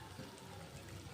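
Water poured into a bowl of spice mix with salt and sugar while making chicken chaap at home, a faint, steady trickle running through the whole short moment with no voices.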